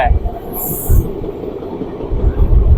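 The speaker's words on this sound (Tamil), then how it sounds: "இப்போதான் ஒரு பெண்டு வந்திருக்கு பாருங்க ரயில் வளைஞ்சு போயிட்டுருக்கு" A passenger train rolls along the rails between Rayakottai and Bengaluru, taking a bend, with a steady close rumble of wheels and carriages and rhythmic low thumps from the track throughout.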